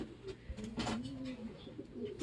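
A young racing pigeon coos softly and continuously in a low, warbling tone, close by, against faint background noise.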